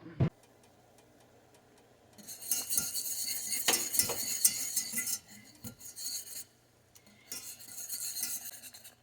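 A spoon works powder into an elderberry gummy mixture in a pot, making two bursts of brisk scraping and clinking separated by a quieter pause, with faint background sounds.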